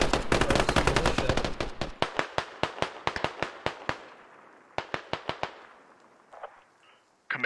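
Gunfire in the video game Squad: a dense burst of rapid automatic fire up front, then a string of separate loud sharp shots, a pause, another quick cluster of shots, and a faint tail.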